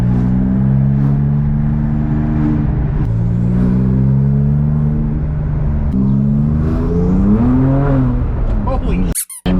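A rebuilt, road-legal Porsche 997 Turbo race car, heard from inside with the windows down, drones loudly and steadily, its engine tone rising and falling as it accelerates, with a brief clatter at the end.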